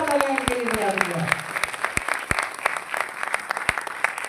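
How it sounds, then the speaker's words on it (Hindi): An audience at a network-marketing company event claps for the company founder, starting as a burst of sustained applause and thinning into scattered individual claps while a voice carries over the start. "एक बार जोरदार तालियां इनके लिए बजा दीजिए।"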